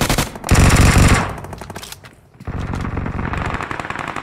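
Gunfire in BGMI sounds as loud, dense automatic bursts, then a brief lull before another sustained rapid volley resumes, close and dominant with no speech.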